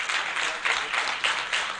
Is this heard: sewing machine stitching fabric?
no